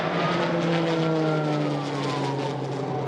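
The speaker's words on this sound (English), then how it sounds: "Water bombers and planes tear through the smoky haze," A water bomber plane roars low over a bushfire through smoky haze, its loud engine drone steady and close with a slowly shifting pitch throughout.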